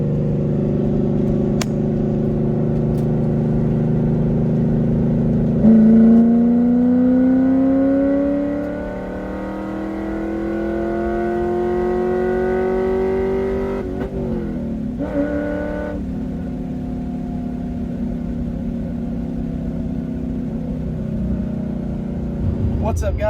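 An old, cheap Ford Mustang at a drag racing track idles with a low, rough rumble, then its engine revs in rising and falling sweeps, loud and close, with no other sounds standing out.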